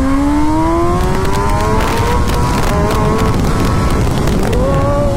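A BMW S1000RR motorcycle fitted with an Akrapovic full exhaust system revs loudly and steadily, its rising engine tone held close and continuous with wind noise throughout.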